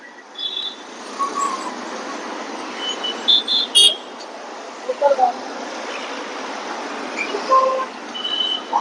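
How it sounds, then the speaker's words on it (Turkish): Car horns toot in short, scattered bursts over a steady wash of street traffic in Mumbai, India, a few honks standing out near and sharp while others sound farther off. "korna ile korna ile anlaşıyorlar"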